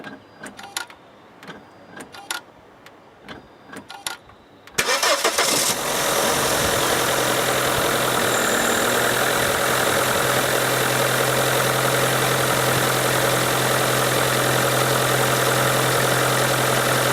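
An Opel Zafira with a reported misfire: a few soft clicks, then the engine cranks and catches, settling into a steady, loud idle that carries on alone.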